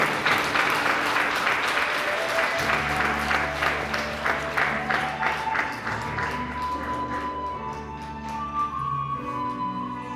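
Steady applause from a wedding audience greeting the bride and groom, full and close for several seconds before thinning out as soft instrumental music takes over underneath.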